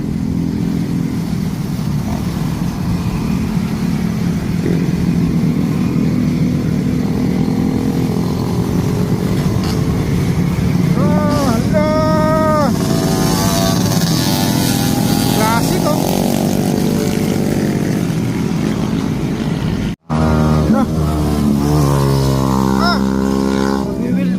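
A motorcycle engine runs steadily and revs up several times, loud and close, with people talking over it throughout.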